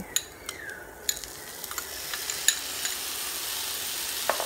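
Broccoli and chopped tomato frying in a pan, a steady close sizzle broken by scattered light taps and scrapes of a stirring utensil, with no voices.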